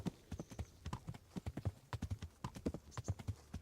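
Horse hooves clip-clop steadily in the medieval video game Kingdom Come: Deliverance, crisp repeated hoofbeats in a quick riding rhythm, close and clear with no talk over them.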